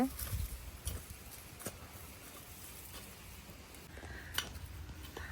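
A spoon scrapes and clinks against a pot while an egg mixture is stirred, faint scattered knocks and scrapes at an uneven rhythm beneath low voices talking nearby.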